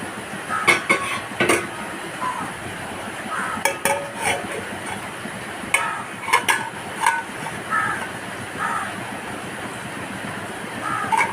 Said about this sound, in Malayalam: ഇനി ഇതൊന്ന് മൂടി വയ്ക്കാം